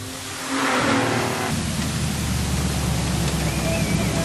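Stock cars racing on a clay speedway at Carina: a loud, sustained roar of engines under broadband track noise, rising sharply after a brief quieter start and holding steady.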